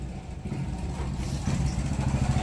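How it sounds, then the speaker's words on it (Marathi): A steady, low engine rumble runs throughout, continuous and fairly loud, from a vehicle with a fault making noise, idling or running nearby with some clatter. "गाडीचा प्रॉब्लेम म्हणजे गाडीचा आवाज येते सॉरी"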